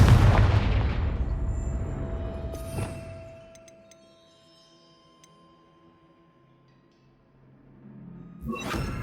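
A Confringo blasting spell in Hogwarts Legacy erupts in a loud, deep explosion that rumbles and slowly fades, followed by a second sharp burst a moment later. A quiet lull follows before another blast near the end.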